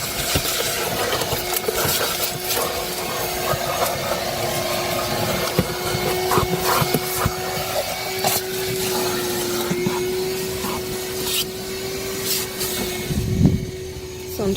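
A vacuum cleaner works over a car interior, a loud continuous whine with bumps, knocks and rattles as the nozzle moves around the seats and floor, with a brief clatter near the end.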